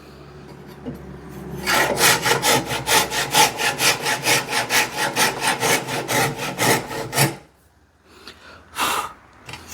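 A hand saw cuts a kerf into a wooden axe handle, with about a dozen steady, rhythmic rasping strokes, loud and close. It stops abruptly, then a short scraping sound follows.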